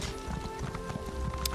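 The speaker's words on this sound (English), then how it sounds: "Probably fastest just to run through town, I guess, with our fast horse." A fast horse in the Elder Scrolls Online Morrowind game gallops through town, its hooves clopping in a quick, steady rhythm, fairly faint under a low game ambience with no talk.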